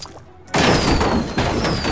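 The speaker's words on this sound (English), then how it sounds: "Whoa, fireworks." Fireworks burst in a Simpsons level of the LEGO Dimensions video game: after a quiet moment, a loud sudden explosion hits, followed by rumbling crackle and a second blast.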